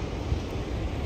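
Atlantic ocean surf on the Irish coast along the Wild Atlantic Way gives a steady, broad roar of breaking waves close by, mixed with wind buffeting the microphone, with no voices.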